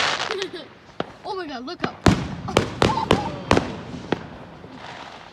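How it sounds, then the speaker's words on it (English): Fireworks bursting on Bonfire Night (Halloween) in central Ireland, a series of sharp cracks and booming thumps spread across the sky at varying distances, with people talking excitedly over them. "Fireworks over there too."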